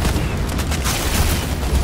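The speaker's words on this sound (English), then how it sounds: "Oh, I'm getting sniped at." Gunfire in the Fortnite video game, with sniper shots coming in, heard as a dense, steady barrage of cracks and booms that stays loud throughout.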